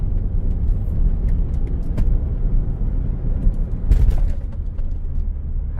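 A Mercedes-Benz SL 550 convertible in sport mode drives on a test drive, its engine a steady low rumble with road and wind noise, plus a few light clicks and a brief thump near the middle.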